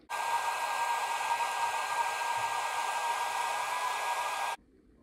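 A hair dryer blowing heat over glued-down hair tracks, a loud steady close whoosh with a constant motor whine that runs for about four and a half seconds and then cuts off abruptly.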